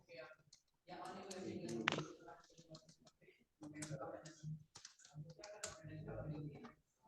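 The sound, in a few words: typing on a computer keyboard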